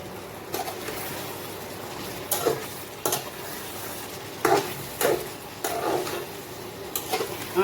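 Chicken cooking in a pan with roasted, ground spices, giving a soft sizzle under several distinct scraping stirs of a utensil against the pan, moderately close and with no talking.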